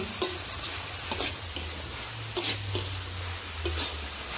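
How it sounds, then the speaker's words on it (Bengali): Mixed vegetables with salt and turmeric are stir-fried in a pan, a continuous close sizzle with repeated spatula scrapes and knocks against the metal at an irregular pace. "পরিমাণ মতো লবণ, হলুদ গুঁড়ো সব কিছু দিয়ে আমি সব সবজিকে ভালো করে হাল মেরে নেব"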